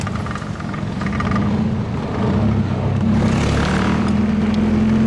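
A Nissan 240SX engine with a loose, failing throttle body runs close by, a loud steady drone that rises slightly partway through.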